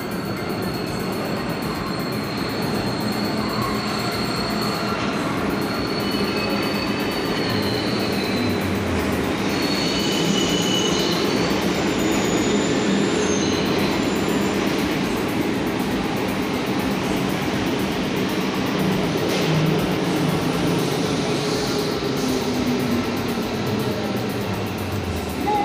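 Steady rumble of a metro train rolling into a station in Santiago, Chile, with rail hum, faint squealing wheels and a constant mechanical roar throughout.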